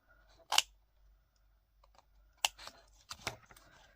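Paper being cut for a scrapbooking shaker box, with a few sharp snipping clicks spaced out over a few seconds, close and fairly quiet against a near-silent room.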